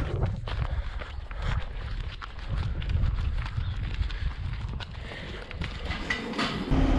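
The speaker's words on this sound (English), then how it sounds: "Chasing some cows up to the pre-fresh pen now." Cows on a dairy farm walking as they are driven to a pre-fresh pen: steady hoof clatter and thumping footsteps over constant wind noise, fairly close and loud throughout.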